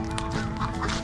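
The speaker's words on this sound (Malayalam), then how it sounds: "നമ്മുടെ താറാവ് ടീംസൊക്കെ ഇവിടെ തന്നെ ഉണ്ട്" A small group of ducks kept beside a fishing spot give a few short nasal quacks close by, overlapping in a brief burst with faint background noise.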